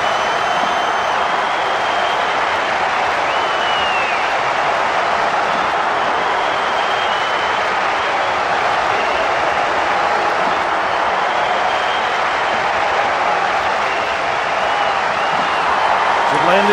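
A home rugby crowd in France roars continuously after the team's first try against Fiji, a dense, loud wash of cheering and applause that holds steady throughout, with speech blended in.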